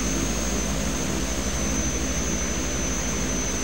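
Steady, loud turboprop drone from a Twin Otter amphibious aircraft in Microsoft Flight Simulator, a continuous close engine roar with a constant high whine and no change in pitch.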